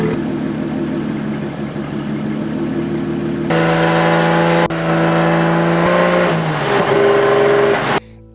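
A Nissan 240SX drift car fitted with a 1JZ engine runs loud and close, holding a steady note before its pitch climbs in a series of strong revs, then cutting off sharply at the end.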